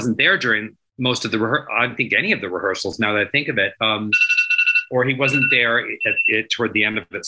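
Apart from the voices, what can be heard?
phone alarm ringing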